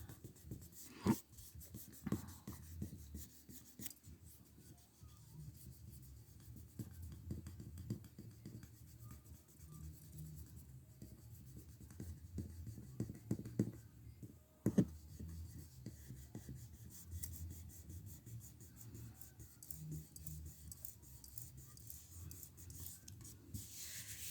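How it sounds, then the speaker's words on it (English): Soft, quiet rubbing and scraping as a finger works wet paper off a Mod Podge reverse graphic transfer on a wood piece, repeated strokes with a few louder scuffs and no talking. "You just gotta keep rubbing."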